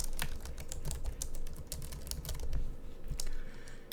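Rapid, uneven clicking of a computer keyboard as text is typed, close and fairly quiet, a continuous run of keystrokes with no voices.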